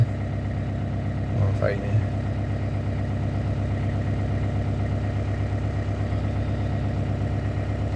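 A camper van engine runs in a steady low idle throughout, close and continuous, with a brief bump as it catches early on; someone speaks over it.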